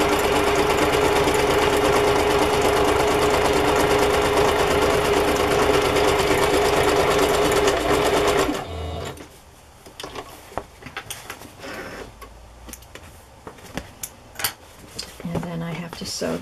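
A sewing machine stitches fabric for a collaged fabric journal cover. It gives a loud, steady whirring drone for about eight seconds, then stops, leaving quieter clicks and handling noises.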